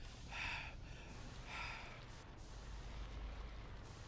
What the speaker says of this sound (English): I love the subtle panting after you run